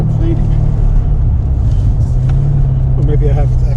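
Chevrolet Corvette C7 Z06 engine growling low and steady under throttle during an autocross slalom run, a constant loud rumble with a slight rise near the end.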